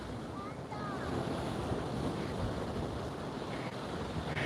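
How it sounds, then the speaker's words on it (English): Ocean surf at Spitting Cave in Hawaii rolls in as a continuous loud roar, with heavy wind buffeting the microphone throughout. "But it gets so much wave activity."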